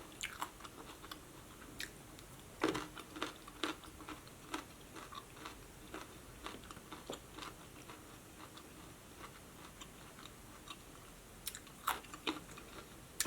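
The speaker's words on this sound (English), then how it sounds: "I feel like I'm chewing fast." Boneless chicken wings chewed close to the mic, soft wet crunches and bites repeating irregularly over a quiet background, with no talking.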